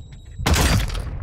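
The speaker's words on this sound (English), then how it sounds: "Okay, grenade out." A grenade explodes in the video game Call of Duty: Modern Warfare 2: after a quiet moment, one loud, sudden blast bursts out close by and then rumbles on with debris-like crackle to the end.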